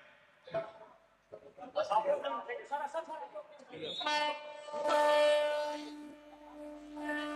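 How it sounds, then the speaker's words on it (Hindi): A MEMU train departs Abhanpur station on the Abhanpur–Raipur rail section, its sustained horn blaring loudly through the second half amid crowd noise and talk at a public event. "अभनपुर से ये ट्रेन रवाना हुई है।"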